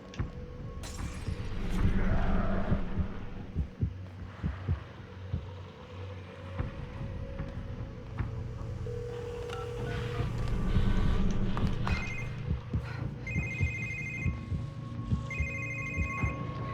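A telephone rings inside the survival horror game The Evil Within, its repeating electronic bell bursts standing out over a low, rumbling ambient drone and scattered in-game noises.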